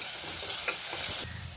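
Onions and curry leaves sauté in a pan for potato masala, a steady close sizzle broken by a few scraping stirs of a spoon against the pan.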